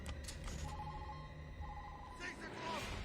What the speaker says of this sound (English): Oh my god, that ringtone.